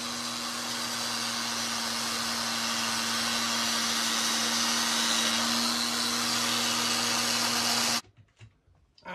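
Parkside power tool grinding rust off metal, a loud continuous whirring whine that holds steady for about eight seconds and then cuts off abruptly, leaving quiet handling noises.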